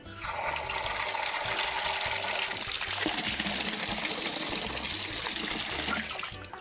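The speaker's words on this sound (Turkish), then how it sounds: "Deremiz bu şekilde. Çok güzel akıyor" Spring water from the mountain rushes along a small stream beside an olive grove near Bandirma, a loud, continuous close-up gush and splash with no voices.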